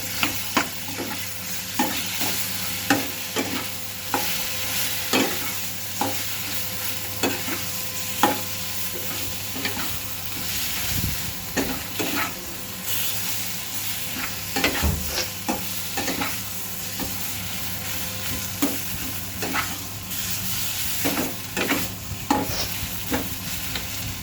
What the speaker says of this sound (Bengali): দিয়ে দিচ্ছি আলু। ভালো করে নেড়ে নিব।